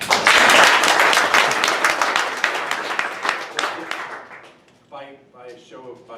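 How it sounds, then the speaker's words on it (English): An audience claps in a show-of-hands vote, dense loud applause at first that thins and fades over about four seconds, leaving scattered claps as a voice begins talking. "if you'd prefer clapping so our radio audience could hear it, does everybody think that, that there should be a public police force?"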